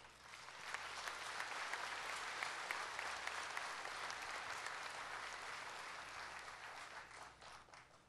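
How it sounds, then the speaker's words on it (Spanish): Crowd applause at an outdoor Easter Mass in a town plaza, a broad sustained patter of many people clapping, fairly distant and soft, swelling early then slowly tapering. "Desde aquí lo despertamos y lo animamos con nuestro aplauso generoso."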